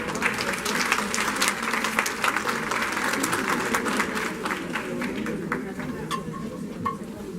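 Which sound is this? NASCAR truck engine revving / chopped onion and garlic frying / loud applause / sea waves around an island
loud applause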